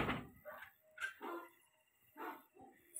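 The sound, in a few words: person imitating a dog barking as a prank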